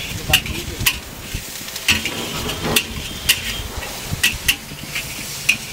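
Stir-frying for a coastal Konaseema biryani with cabbage, green chillies, prawns, chicken, fish and crab: a loud sizzle in a pan with repeated sharp metal scraping strokes at an uneven rhythm, close up.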